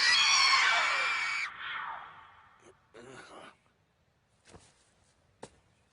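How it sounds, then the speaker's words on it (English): An anime mandrake herb shrieks as it is yanked from the ground: a loud, piercing scream that slides downward and fades, followed by a few faint rustles and soft thumps in near silence. "Screams out like a vengeful spirit when it's pulled from the ground."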